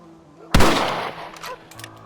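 A rifle shot in the video game Red Dead Redemption, one sharp loud blast followed by a decaying echo, then faint clicks.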